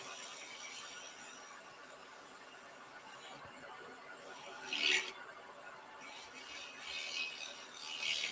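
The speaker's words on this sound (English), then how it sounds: "scrape a little bit there" Scraping tool cutting wood on a woodturning lathe, a rough continuous rasp up close with a sharper scrape burst midway and steady machine hum underneath.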